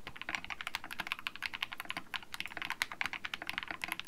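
Rapid, continuous clicky typing on a cheap AliExpress mechanical keyboard fitted with blue switches, sharp close-up keystrokes in a fast irregular patter with no talking.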